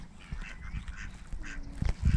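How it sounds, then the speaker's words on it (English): Drake and hen ducks quack repeatedly nearby in a busy cluster on a lake, several birds calling over one another with splashy outdoor background noise. "drake ducks, more hen coming up over here."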